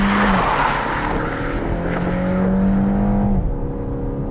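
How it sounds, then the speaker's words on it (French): A four-cylinder BMW X1 (2023) engine revs hard under full acceleration in sport mode, the pitch climbing steadily over a few seconds, loud and close with a brief drop partway through. "Là je suis en mode sport, donc forcément je vous refais une accélération à fond."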